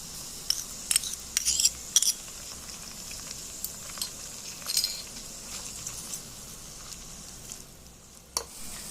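Tomatoes are sautéed in a miniature pan for chicken biryani, with a faint steady sizzle under sharp intermittent clinks and scrapes of a tiny utensil stirring, several bursts close together, then quieter, with no talk.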